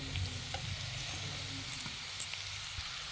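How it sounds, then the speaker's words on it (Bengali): Chicken and potato pieces fry in a pan with dry-roasted cumin, coriander and dried chilli, giving a steady, close sizzle with faint stirring scrapes throughout. "এবার এর মধ্যে দিয়ে দেবো আমি এই যে আলু আর চিকেনটা"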